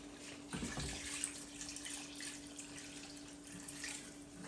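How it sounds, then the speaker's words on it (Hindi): Water runs and splashes steadily into a pot of mutton and potato curry, with the oil already separated from the fried meat. It is a faint, continuous pouring sound with no talk over it. "अब इसमें मैं पानी ऐड करने लगी हूँ।"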